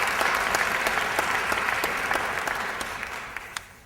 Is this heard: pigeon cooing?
no